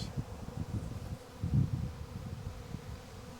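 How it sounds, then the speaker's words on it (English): A honeybee swarm gathering to settle, a low steady buzzing drone that swells briefly midway and otherwise holds an even, moderate level. "I don't think it's a massive swarm, but it is a swarm, and they want to collect here somewhere."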